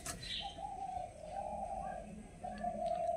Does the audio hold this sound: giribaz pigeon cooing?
yes